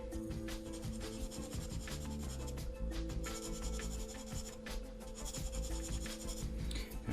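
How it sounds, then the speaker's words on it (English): A coarse sanding stick rubs across the plastic wing of a 1/72 FineMolds Savoia S.21F model kit, making soft, close, repeated scratchy strokes in a steady back-and-forth rhythm, with no speech. "And I'm sanding on an angle because you want to maintain the profile of the wing."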